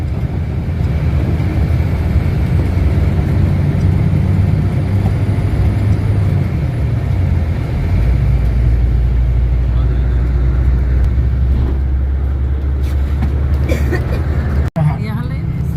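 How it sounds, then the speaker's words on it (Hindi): A car travels along a mountain road with a steady low engine rumble and road noise throughout, under continuous talk from a passenger, ending with a brief sharp knock. "जैसे हमारी गाड़ी आगे जा रही है"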